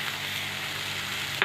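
Spoon stirring sugar into a thick amla chyawanprash mixture in a pan, a continuous close, soft scraping and sizzling texture with a sharper scrape at the end.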